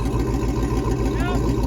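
A large ramp truck engine idling as it warms up, a steady low rumble running throughout with faint irregular pops from the exhaust, close by.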